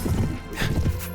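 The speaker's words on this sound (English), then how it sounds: "Let's try and slash one of their horses" A horse in a medieval battle video game whinnies after being slashed, its loud neigh rising over hoofbeats and clattering battle noise, close and brief.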